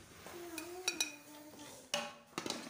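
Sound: serving biryani out onto a dish, utensils clinking

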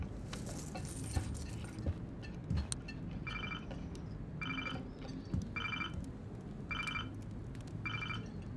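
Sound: keys jangling in video game Life is Strange

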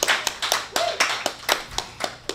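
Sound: audience clapping

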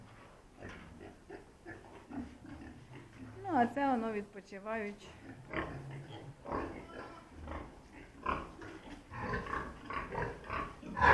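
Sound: pigs grunting

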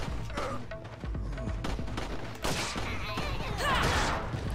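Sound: distant gunshots in a video game

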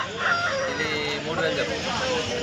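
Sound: rooster crowing at poultry market

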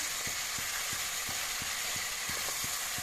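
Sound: chicken pieces stirred while frying in a pan

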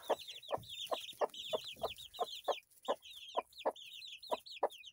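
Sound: baby chickens clucking

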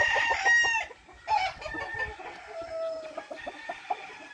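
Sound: yellow one-eyed rooster crowing

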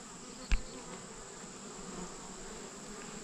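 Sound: honey bees flying around supers

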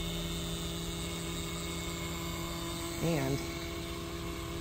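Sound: DeLorean fuel distributor and injectors running on test

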